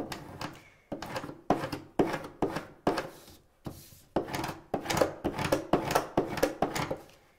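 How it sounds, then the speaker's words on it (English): A scraper tool rubs firmly over vinyl on transfer tape, a close, faint series of about fifteen quick scraping strokes in a steady back-and-forth rhythm, with no talking. "I'm using my scraper tool here, and it's going to help me burnish or make sure that my design sticks to the transfer tape"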